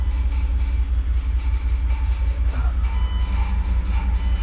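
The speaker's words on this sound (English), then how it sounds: "Now we start the car. Sorry, this thing's loud." A 2000 Dodge Durango engine runs after an A/C compressor replacement with the belt off, a loud, steady, close low rumble that never varies in level, with a few faint knocks on top and no talk.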